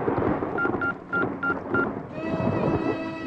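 A telephone is dialed in a short burst of distinct keypad tones, each a brief beep separated by short gaps, followed by a steady ringing tone, heard close and fairly clear over low room noise.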